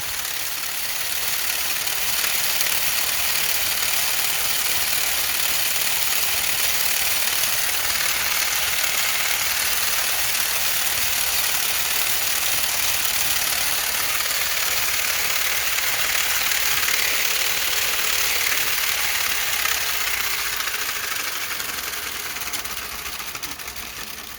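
A 3D-printed solenoid motor with N52 magnets runs on 12 volts, giving a steady, dense mechanical buzz and rattle that holds constant and fairly loud throughout, close by with no talking.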